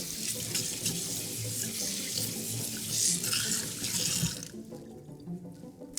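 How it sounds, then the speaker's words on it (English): Hands are rinsed under a running kitchen tap while making no-bake energy balls, a steady splashing stream of water hitting the sink for several seconds before it cuts off near the end. "I'm gonna pause a second now that I have 6 and rinse my hands."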